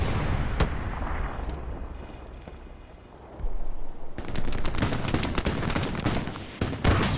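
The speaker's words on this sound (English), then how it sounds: "Everybody's shooting." Gunfire in a World War II battle in the video game Hell Let Loose: at first a few scattered distant shots, then dense rapid machine-gun and rifle fire that grows loud and constant, with no talking.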